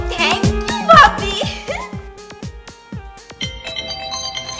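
A phone rings with an incoming call during a Bangladeshi comedy drama serial, its melodic electronic ringtone repeating in bright tonal bursts over a steady beat, clear and close, with voices briefly audible at the start.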